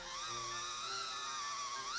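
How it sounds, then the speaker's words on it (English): A drill boring angled pocket holes through the ends of a wooden post held in a pocket-hole jig, a steady high-pitched whine held throughout at moderate level. "It just took a few minutes to drill 4 precisely angled holes at both ends of each post."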